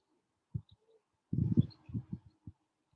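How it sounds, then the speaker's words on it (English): Birds calling outdoors in a garden, a few short cooing, pigeon-like notes with a busier burst of calls in the middle, fairly close and clear over a quiet background. "you can hear the bird song"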